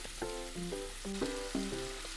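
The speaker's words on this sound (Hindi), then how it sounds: "गैस को मीडियम आंच पर कर देंगे और भिंडी को पका लेंगे जब तक कि वो गल ना जाए।" Okra cooks in a pan over a medium flame with a soft continuous sizzle, while a tonal, melodic sound repeats over it in short phrases. No one speaks.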